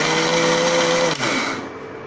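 A mixer grinder whirs at a steady high pitch for about a second while grinding green chutney with coriander, then winds down as the motor stops.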